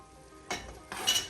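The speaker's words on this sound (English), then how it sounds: "Okay, I'm going to add my onions." Chopped onions go into a pot of browning hamburger for chili, making two short, soft bursts of sizzle a moment apart against a quiet background.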